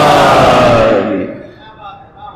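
A large religious majlis gathering roars a loud 'Haidari' slogan in unison, one powerful shout that swells and then fades into the hall's echo.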